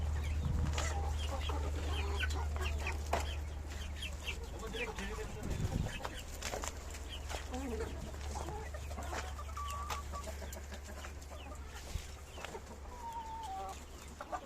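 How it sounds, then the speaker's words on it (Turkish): Sussex chickens cluck and chirp softly nearby in a farmyard, with scattered calls over a low background hum and some quiet human voices. "Köy tavuklarımız. Orijinal köy suseks kırmalarımız."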